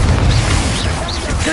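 Confringo, an explosive fire spell cast in the video game Hogwarts Legacy, bursts as a loud, dense blast with rumbling low-end crashes and crackle sustained through the moment.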